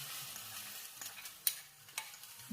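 Ingredients drop into hot ghee in a kitchen pan and sizzle quietly, with a soft steady hiss and a few faint clicks and taps.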